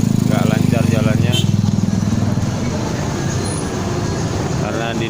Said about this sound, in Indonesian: ini macet panjang juga